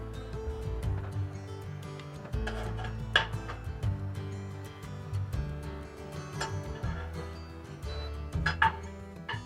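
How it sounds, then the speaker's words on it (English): Crisp bacon is lifted out of a frying pan, with a series of sharp metallic clinks and scrapes of utensils against the pan over a low background sizzle, close and irregular, no speech. "The bacon is nice and crisp. Let's get it out of the pan."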